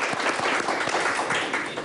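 Brief applause played over a radio broadcast, a short muffled burst of many hands clapping with a few distinct claps near the front, filling the whole moment without speech.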